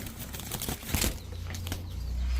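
A Gorra pigeon beats its wings in a quick flurry of flapping, close and fairly loud, with a low steady hum underneath.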